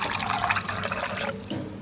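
Water poured into a blended buttermilk mixture with green chillies and ginger, a soft, close splashing pour that fades after about a second.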